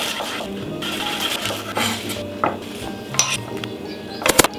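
A knife slicing through a pre-peeled, halved onion on a cutting board makes close, sharp clicks and taps in an irregular rhythm, with light clinks between cuts.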